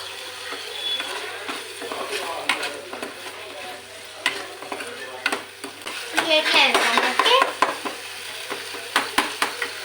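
Tomato masala with coriander sizzles in a pan while a spoon scrapes and stirs it in irregular bursts, close and fairly loud, with faint clinks of utensils.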